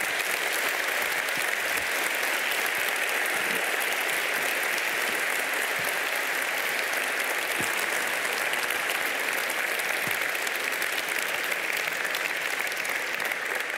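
A crowd at an EDHEC executive education graduation celebration turns to applaud graduates' families and friends, producing long, steady, evenly dense clapping that fills the venue without pause or talk.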